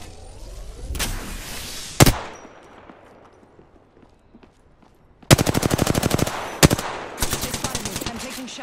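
In a video game firefight, enemy gunfire arrives as rapid machine-gun bursts. Long rattling volleys follow isolated sharp shots, loud and close, with brief pauses between strings of fire.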